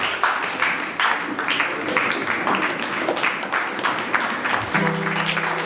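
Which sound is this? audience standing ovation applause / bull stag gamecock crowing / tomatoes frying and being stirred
audience standing ovation applause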